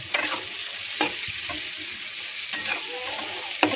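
Mixed vegetables stir-fry in a pan for restaurant-style fried rice, a steady close sizzle broken by several sharp scrapes and knocks of a spoon stirring, without talking.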